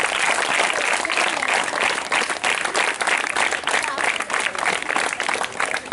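A crowd of parents and students applauds at a school parent-teacher meeting, dense continuous clapping held steady and loud for several seconds.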